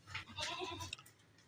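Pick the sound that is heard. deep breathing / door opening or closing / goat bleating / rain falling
goat bleating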